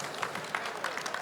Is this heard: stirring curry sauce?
no